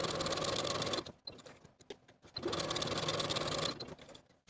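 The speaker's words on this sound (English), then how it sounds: "creating a separate set of basting stitches from the center front to the opposite armhole" A sewing machine runs basting stitches across a blouse bodice, a close, fast whirring chatter in two sustained bursts separated by a short pause with light handling clicks.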